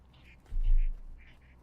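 Ducks on the water in a video game give a few soft, nasal quacks at low volume, heard alongside a brief low thump midway through the short stretch.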